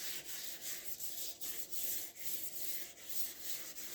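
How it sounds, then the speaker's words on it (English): Sandpaper rubbed by hand sideways across a 1978 Kawasaki KZ650 motorcycle part, a close, rhythmic scratchy back-and-forth rasp with steady strokes, no speech. "So we'll just do the sideways sand on it"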